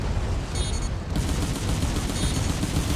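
Rapid, sustained gunfire from mobile suits in the Gundam Crossfire video game, a dense continuous barrage with no gaps, loud and close throughout.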